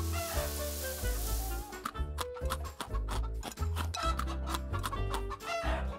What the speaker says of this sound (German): Wer möchte Herrn Meerschweinchen und Frau Huhn füttern?